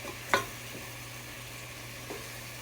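Vegetables and garlic cooking down in a pan for a gnocchi chicken pot pie give a soft, steady sizzle, with one brief clink near the start.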